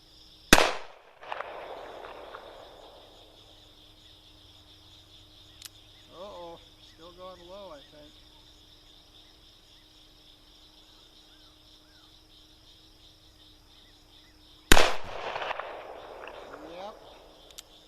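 An Uberti 1873 Birdshead revolver fires two loud, sharp shots about fourteen seconds apart, each followed by a brief echo, with a quiet outdoor background, crickets and a short stretch of talking between the shots.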